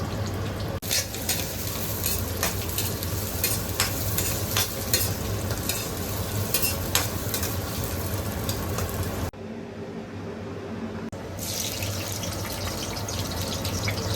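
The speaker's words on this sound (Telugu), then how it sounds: "ఉల్లిపాయలు వేసుకొని బ్రౌన్ కలర్లో వచ్చేదాకా ఫ్రై చేసుకుందాం." Onions frying in ghee in a pan until browned for prawn biryani, giving a steady, close sizzle with stirring throughout and a brief softer dip toward the end.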